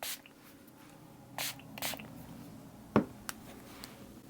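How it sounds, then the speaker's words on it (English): A few short, soft hissing bursts of setting spray misted onto a makeup brush, spaced apart in a quiet setting, followed by a light tap. "just get some on the brush, mist it with the setting spray"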